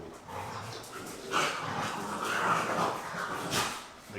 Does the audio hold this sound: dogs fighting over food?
yes